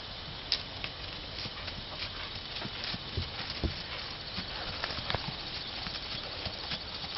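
A horse walking on a trail, with steady clip-clopping hoofbeats close by over a busy outdoor background, one or two hoof strikes a little sharper than the rest.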